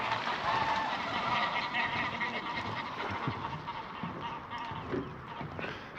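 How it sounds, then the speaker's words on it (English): A flock of geese honks loudly and continuously at a marina on the Norfolk Broads, the calls blending into a dense, clamorous din. "God, those geese are loud."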